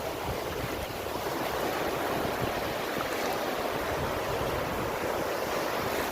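Ocean waves on Visakhapatnam beach rolling in as a continuous loud roar of surf with wind buffeting the microphone, steady throughout and without voices.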